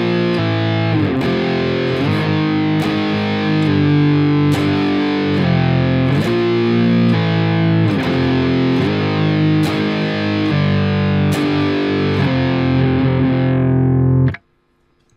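Heavily distorted electric guitar playing a riff, loud sustained strums joined by sliding shifts between positions, repeating steadily for about fourteen seconds before stopping abruptly.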